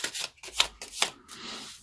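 Tarot cards are shuffled in a few quick, crisp riffling bursts, close and fairly quiet, with a soft papery flutter trailing off at the end and no talk.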